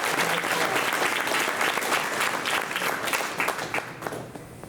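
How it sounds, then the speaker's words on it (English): An audience at a veterans hall of fame induction ceremony applauds, a dense, steady wash of clapping from many hands that holds for several seconds and then gradually thins and fades. "So let's give them a round of applause."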